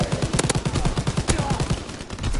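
Machine gun fire in a video game battle, with rapid rhythmic bursts of an MG blasting close and loud for the whole stretch alongside tank combat.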